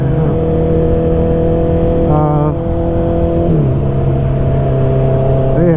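Steady engine drone from a 2019 Honda CB650R motorcycle exhaust while riding, holding a continuous hum with a brief rise in pitch partway through and small shifts as the rider changes speed.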